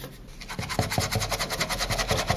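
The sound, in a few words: scrubbing a makeup brush on a cleaning tool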